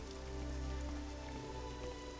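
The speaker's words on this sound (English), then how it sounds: "seeing it in the middle of the night in the pouring rain" Steady heavy rain pours in Morrowind at night, a dense continuous hiss of drops spattering on surfaces with a low rumbling undertone, constant and fairly loud with no talking.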